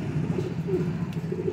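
A breeder's pigeon coos in low, rolling throaty notes, close and clear, repeating through the short moment with no other sounds.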